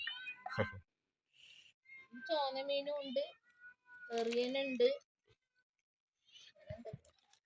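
Pet cats meow at a home in Kerala, giving several drawn-out, wavering cries in short bursts separated by pauses, fairly close, with a brief bit of human voice mixed in.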